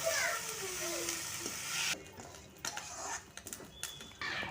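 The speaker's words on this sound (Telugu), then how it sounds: "అదే ప్యాన్లో వెల్లుల్లిపాయి జీలకర్ర ధనియాలు కరివేపాకు వేసుకుని బాగా వేపించుకోవాలి" Garlic, cumin seeds, coriander seeds and curry leaves fry in a pan, a strong close sizzle that settles into quieter crackling, with intermittent stirring clinks against the pan.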